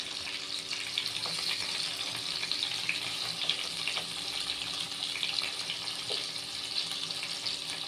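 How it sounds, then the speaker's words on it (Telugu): Stuffed brinjals fry in oil in a pan with a soft, even sizzle, while occasional light clicks and scrapes mark them being turned over with a ladle. "అన్ని దిక్కులో మంచిగా ఇట్లా తిప్పుకుంటూ మంచిగా ఫ్రై చేసుకోవాలి"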